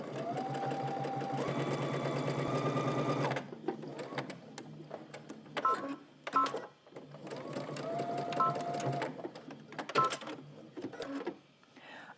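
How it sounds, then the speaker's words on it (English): A domestic sewing machine stitches fabric ties for a Simplicity S9917 sewing pattern, running in a steady whirring burst, pausing with clicks and handling noise, then running again at close range. "Let's fold in half and stitch a 1/4 inch."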